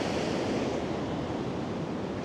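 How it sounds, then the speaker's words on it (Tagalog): Large ocean waves at Lamane Beach on fine sand, a loud, continuous roar of surf with wind rumble in the microphone and no break or talk. "Boom! Laki ng alon."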